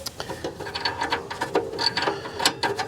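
A wrench ratchets in quick, uneven clicks while loosening the upstream oxygen sensor on a 2006 Mazda3, the tool working close by in short bursts over a few seconds with no talk.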